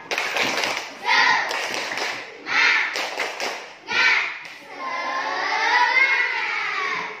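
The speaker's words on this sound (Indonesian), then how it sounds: "Tepuk semangat" A class of children performs a rhythmic spirit clap in several sharp bursts of clapping, broken by short pauses, then goes into a sustained group chant or cheer. The sound is close and loud.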